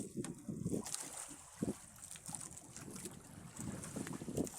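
Small fishing boat out at sea, with wind buffeting the microphone, low rumbling gusts and water slaps that rise and fall throughout, with faint talk now and then.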